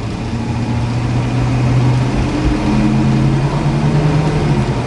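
A 1966 Ford Mustang GT Fastback with a three-speed transmission drones steadily from inside the car as it accelerates onto a highway, the engine note holding loud and continuous with slight pitch shifts.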